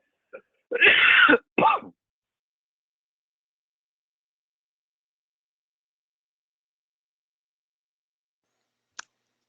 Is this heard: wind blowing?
no